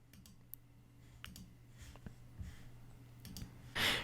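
Computer mouse clicking, a scattering of faint, sharp clicks at irregular intervals over a quiet low hum, with a brief louder rustle at the very end.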